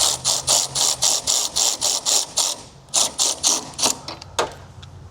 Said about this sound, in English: take a 13mm socket, and I'm just going to get this snugged up for now.